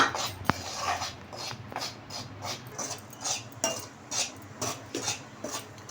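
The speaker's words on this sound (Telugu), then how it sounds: "ఇలా బాగా ఫ్రై చేసుకోవాలి గోధుమ పిండి అనేది దోరగా వచ్చేలాగా" Wheat flour is dry-fried in a pan on the stove and stirred steadily, a spatula scraping the metal in a regular rhythm of soft, close strokes about twice a second, with no talking.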